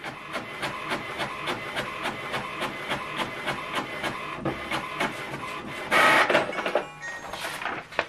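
An HP ENVY 6022 printer runs off a test page nearby, ticking in a steady rapid rhythm of repeated carriage pulses, then giving a louder whirring burst and clatter toward the end.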